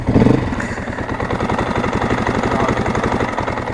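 A Crossfire motorcycle engine idling close by with a fast, steady, chugging pulse and mechanical clatter, loud and even after a brief louder bump at the start.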